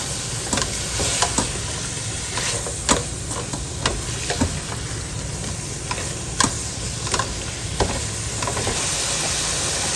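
Vegetables for chicken spaghetti stir-fried in a hot pan, a continuous loud sizzle broken by repeated sharp clicks and scrapes of a utensil tossing and mixing, with no talking.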